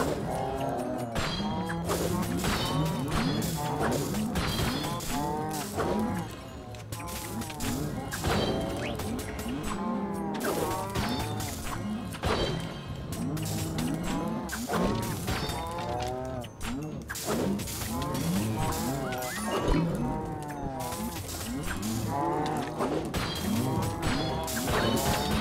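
Many cows mooing in a video game, with overlapping low bellows repeating almost constantly alongside crashes and smashing noises, loud and busy throughout.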